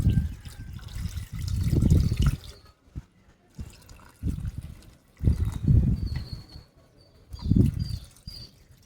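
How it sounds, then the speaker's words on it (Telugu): Water is poured in several separate bursts, each a splashing, gurgling rush that trails into a thin trickle. Brief quiet gaps fall between the pours, and a faint high tone shows up now and then. "వాటర్ అయితే పోస్తున్నా."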